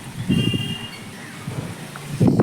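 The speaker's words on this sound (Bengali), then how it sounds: "দেখো বৃষ্টি পড়ছে কিন্তু।" Rain falls steadily outdoors with a low rumble of thunder beneath it, making a close, continuous wash with swelling bursts at the start and end.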